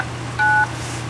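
A single short dual-tone DTMF beep from a radio repeater's autopatch dialing a phone line, clear and brief over a low hum and hiss.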